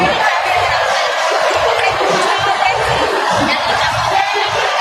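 Dense crowd murmur on the 4th floor of Lucky Plaza shopping mall, a loud continuous wash of overlapping voices and chatter filling the space, with no single speaker standing out.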